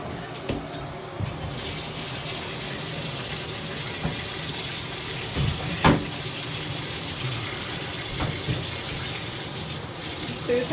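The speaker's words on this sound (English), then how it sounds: "Susan gets a bath." Water runs steadily from a tap during a bath for Susan the dog, a constant gushing stream with occasional splashes and knocks.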